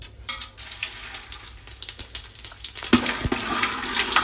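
Fenugreek and cumin seeds dropped into hot oil for a fish curry, a quiet crackle that bursts into a loud, steady sizzle with sharp pops partway through.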